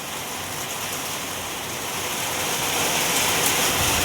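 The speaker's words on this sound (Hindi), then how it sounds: "पता ही नहीं चल रहा था इतनी तेज़ बारिश हो रही है" Heavy, intense rain pouring down in a dense, continuous hiss, loud and close, steadily growing slightly stronger with no voices.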